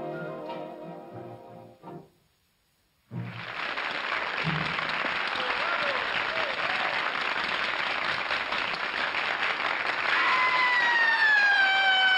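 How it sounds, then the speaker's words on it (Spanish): An audience breaks into loud, sustained applause in a 1952 Mexican film, starting abruptly after a sung phrase and swelling to a dense wall of clapping that continues to the end. "Qué aplausotes, manito"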